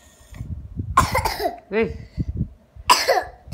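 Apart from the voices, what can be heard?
person coughing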